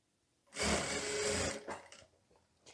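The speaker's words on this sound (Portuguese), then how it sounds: "costurar a manga na cava. Arrematando no início e no final." A sewing machine stitches a sleeve into the armhole of a teddy coat in one loud, steady whir lasting about a second, then a few shorter, quieter bursts and clicks as it slows and stops.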